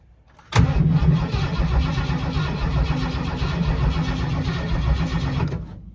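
A 1985 Mustang GT with a stroked 351 Windsor and Cleveland heads cranks over loudly and steadily after a quiet start, a continuous close churning rumble that stops abruptly.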